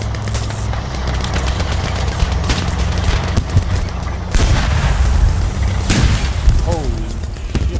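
In a WWI melee combat simulator, a tank fires amid explosions and gunfire, making heavy booms and rattling bursts over a constant loud battle din.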